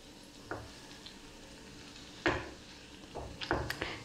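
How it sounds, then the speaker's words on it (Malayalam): Potatoes roasting in butter in a pan, a soft steady sizzle broken by a few sharp scrapes and clinks as they are turned, with no talking over it. "ഇനി പൊട്ടറ്റോസ് ഒന്ന് ഇതിൽ റോസ്റ്റായിട്ട് വരണം. ഇത് അങ്ങോട്ടും ഇങ്ങോട്ടൊക്കെ ഒന്ന് മറിച്ചിട്ട് കൊടുക്കാം."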